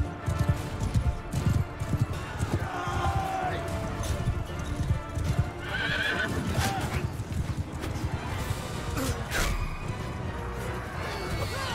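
A horse gallops in the video game Mount and Blade Bannerlord, rhythmic hoofbeats mixed with battle clatter and impacts, with someone talking over the action throughout.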